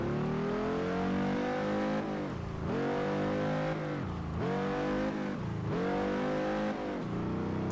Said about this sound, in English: this car hates off-road by the looks of it